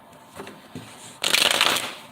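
A quick riffle of a tarot deck, a brisk papery burst after a couple of soft taps, close by with no talking.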